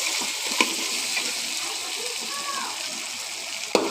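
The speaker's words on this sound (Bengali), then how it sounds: "এখন আমি এই যে কাঁকড়াটা মশলা দিয়ে কষিয়ে নিচ্ছি।" Crab sautéing with spices in a pan, a steady close sizzling hiss with a couple of sharp clatters from stirring.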